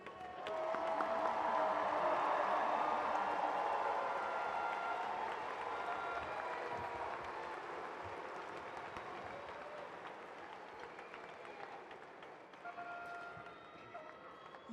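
A large commencement audience applauds graduates at a May 2017 evening ceremony, a broad, sustained roar of clapping that holds strong for several seconds and then slowly fades across a big hall.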